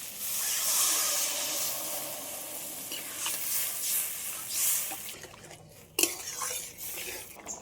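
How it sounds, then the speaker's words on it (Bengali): Frying potatoes and egg hiss in a pan as water goes in, a loud, steady sizzle with clinks of utensils and a sudden sharp burst partway through. "এবার আমি জল দিয়ে দেবো অল্প করে।"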